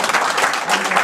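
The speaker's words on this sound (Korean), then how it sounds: "박수!" Audience applause at the close of a lecture at a seminar, a brief, loud burst of many hands clapping close by.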